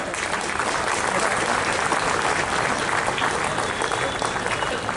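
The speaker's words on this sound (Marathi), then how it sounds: "आपण एकदा टाळ्या वाजवून त्यांचं स्वागत करूया।" An audience at a lecture-series event in Pune claps to welcome a speaker, a dense, steady wash of applause filling the room for the full stretch without letting up.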